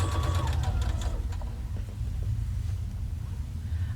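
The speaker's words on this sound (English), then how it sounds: "we're just going to stitch all the way down" Sewing machine running steadily while stitching quilt block pieces together for a four patch block, a continuous close mechanical hum with fine rapid needle clatter and no talking.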